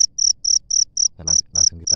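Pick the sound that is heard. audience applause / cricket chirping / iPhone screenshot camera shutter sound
cricket chirping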